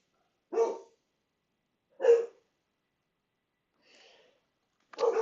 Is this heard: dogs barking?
yes